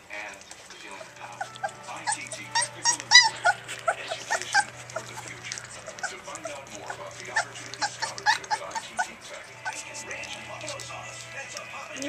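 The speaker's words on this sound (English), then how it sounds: "You're just a crazy little puppy, Bliss." A small dog whimpers and yips in quick, high-pitched bursts, with a steady low hum underneath and a person talking nearby.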